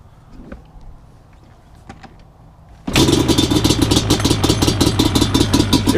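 A Banshee ATV engine fires up without choke after a quiet pause and settles into a loud, steady, rapidly pulsing idle that runs to the end.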